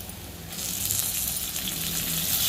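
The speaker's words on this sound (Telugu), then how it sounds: "కొంచెం పసుపు వేసుకున్నా, బాగా కలుపుకొని టమాటాలు వేసుకున్నాం" Tomatoes with turmeric frying in a pan for tomato upma, giving a steady sizzle that grows louder after a quiet first half-second and then holds close and even.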